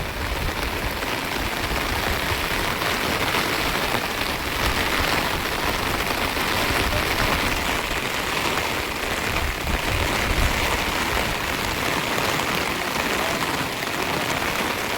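Heavy rain pours steadily and loudly outdoors, a dense unbroken hiss of drops hitting surfaces near the microphone for the whole stretch, with no voices.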